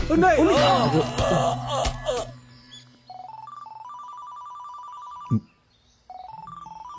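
A telephone rings with a repeating electronic melody, loud and close, after a burst of people talking; the ringtone breaks off briefly then resumes.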